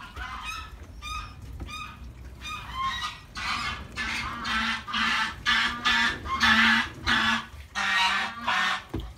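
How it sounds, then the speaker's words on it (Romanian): A male goose honks loudly and close by, starting with a few short calls and then giving a long run of harsh, rhythmic honks, one after another, with no talk. "A zburat găscanul și acum face urât."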